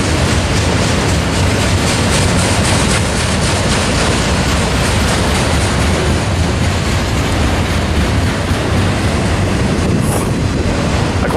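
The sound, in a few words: BNSF freight train of autorack cars passing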